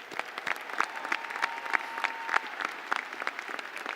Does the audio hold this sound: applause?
yes